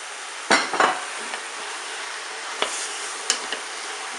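Courgettes tossed onto red pepper frying in a Cookeo pot give a steady sizzle, broken by a few sharp clatters and stirring knocks.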